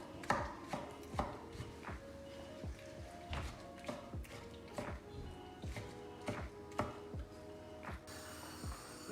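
A knife chops bell peppers into large pieces on a cutting board, with steady, evenly spaced close-up knocks that continue for several seconds.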